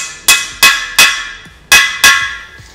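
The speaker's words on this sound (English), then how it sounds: "when you hammer them in, that gives a little bit of expansion for the seat" Freeze plugs are hammered into a Cadillac 390 engine block, giving five sharp metallic strikes in an uneven rhythm, loud and close, each ringing briefly before the next.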